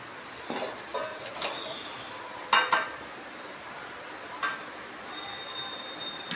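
Metal karai pot set on a stove to boil taro greens, a few quiet clinks and clanks scattered across the clip, with a faint high tone near the end in a quiet kitchen.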